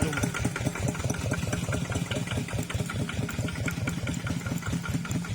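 A tractor engine runs at a steady idle-like chug, with rapid regular knocking pulses, moderately loud and close throughout, with no talk.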